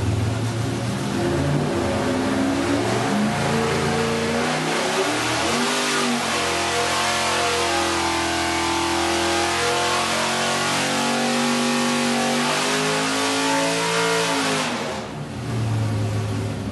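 A car engine revs hard on a dynamometer, a loud continuous roar climbing and falling through the gears over sixteen seconds before easing toward idle near the end.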